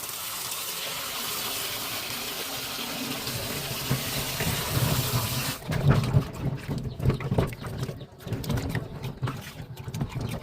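Mangoes are washed with salt in running water for Thai salted pickled mango: a continuous splashing, rushing flow that grows busier and more agitated midway as the fruit is handled.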